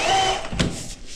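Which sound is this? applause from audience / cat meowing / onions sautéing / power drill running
power drill running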